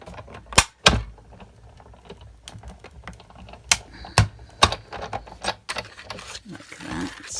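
A die-cut card plate runs through a Sizzix die-cutting machine, giving a series of sharp clicking and clacking mechanical knocks at an uneven rhythm, close and fairly loud, with no talk.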